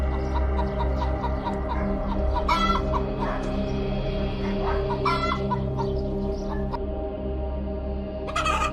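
A chicken clucks repeatedly close by, with a few sharper calls, over a steady low hum and faint background bird noise.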